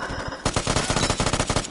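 Rapid automatic gunfire from a video game shooter, a dense burst of close, loud shots in quick rhythm after a short quieter lead-in, with no speech over it.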